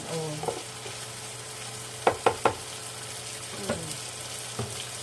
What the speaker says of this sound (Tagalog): Kailangan kasi ginigisa ng konti yung oyster.